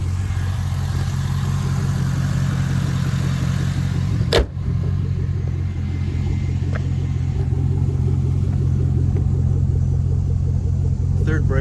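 A 2011 Chevrolet Camaro SS drives along with a steady, low engine rumble heard from inside the car, joined by a brief sharp knock partway through.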